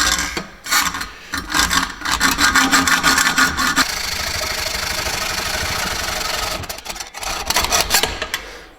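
An old antique hand saw cuts through wood in quick rasping back-and-forth strokes, then settles into a steadier, continuous grinding rasp before a few final choppy strokes, all close and loud.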